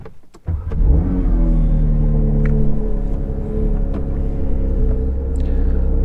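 A 2022 Porsche 911 GT3 with a manual gearbox cranks and fires up, catching into a loud, close rumbling idle that holds steady with slight revs.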